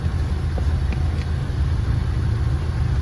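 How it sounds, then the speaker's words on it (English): A car engine rumbles steadily at close range, a continuous low idle at a petrol station air pump with no voices. "I doubt you'll hear anything over the rumble of my car."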